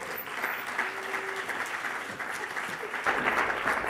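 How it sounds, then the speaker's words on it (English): An audience at a university executive lecture applauds a guest speaker, a steady even patter of many hands at moderate loudness, swelling slightly toward the end. "Let's give her a round of applause"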